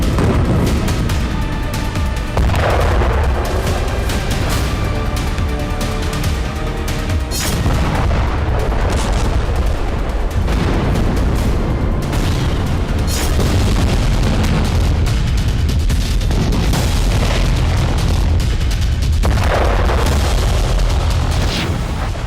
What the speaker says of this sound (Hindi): गाजा पर भीषण बमबारी की गई